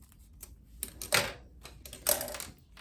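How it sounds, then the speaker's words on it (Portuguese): Two sharp, crisp snips cut through a zipper while a linen outfit is sewn, with faint clicks and handling noise between them against a quiet background. "Aqui o meu zíper, ó, eu vou cortar ele aqui."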